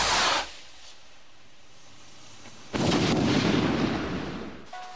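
A sharp whooshing blast at the start, a pause, then a louder, sustained roaring burst with rumbling low end, as a firework's lifting charge launches nearby.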